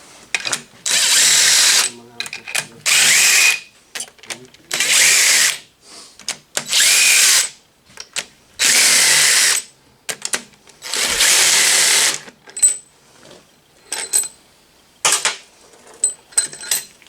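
An impact wrench backs out engine head bolts on a 2016 Polaris Ranger 900 XP, firing in loud, repeated hammering bursts of one to two seconds each, then shorter blips near the end.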